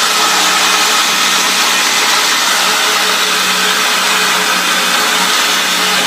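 A power tool grinds a secondary bevel on a Cu Go Mai dagger, steady loud broadband whirring and hissing of abrasive on steel, continuous and close with no pauses.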